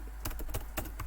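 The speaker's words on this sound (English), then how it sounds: "what I'll just do is I'll just type them" Rapid keystrokes on a computer keyboard while entering keywords into a notepad, a quick irregular run of close, light clicks with no talking.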